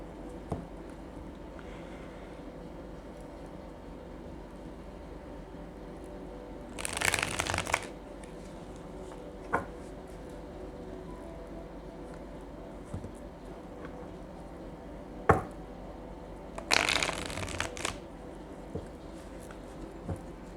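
Tarot cards are shuffled in two short brisk bursts, close and crisp, separated by long stretches of quiet room tone with occasional small taps.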